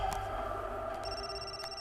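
A telephone rings with an incoming call, a steady electronic tone repeating in short bursts over a low background hum, moderately close, no talking.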